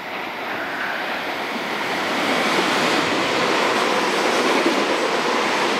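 Tobu 50000 series express train pulling into Yanasegawa station, a broad steady rolling roar that swells louder midway and stays close and continuous, with no voices.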